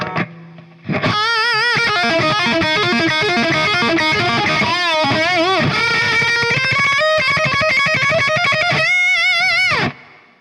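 A distorted electric guitar plays a solo, melodic with bends and sustained notes, loud and continuous for about nine seconds before cutting off.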